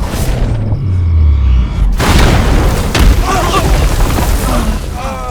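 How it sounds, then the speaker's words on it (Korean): In a drama, a loud, deep boom lands abruptly as a sphere falls from the sky, followed by rumbling debris and crackling noise, with descending tones before the impact. "하늘에서 쿵 소리와 함께 구체가 떨어지고 말았죠"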